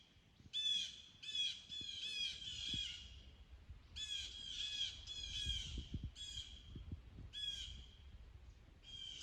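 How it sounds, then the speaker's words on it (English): Birds in the trees overhead squawk and caw in repeated harsh bursts. The crow-like calls come in clusters with short pauses and sound fairly faint and somewhat distant over low outdoor rumble. "Birds are suddenly making a bunch of noise up there."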